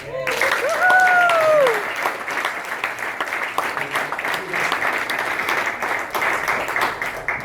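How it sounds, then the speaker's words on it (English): A room of people at a kids' business workshop claps in sustained applause, with a voice briefly calling out over it at the start. "Give him a big hand."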